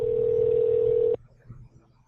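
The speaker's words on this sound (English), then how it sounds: "Let's see who answers the phone." Outgoing phone call to a national laboratory, a single steady electronic telephone tone held for about a second before cutting off abruptly into quiet line noise.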